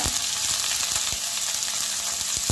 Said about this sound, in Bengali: দিয়ে এগুলোকে আমি একটু লাল করে ভেজে নিচ্ছি।